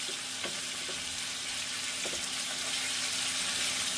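Oxtail meat fries in a pot with a steady broadband sizzle, a few soft clinks and stirring knocks rising briefly above it, and no talking.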